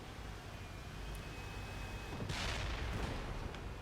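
Artillery fire in the World of Tanks game: a muffled, distant boom with a brief rushing tail breaks through a low, steady battlefield rumble just past the midpoint.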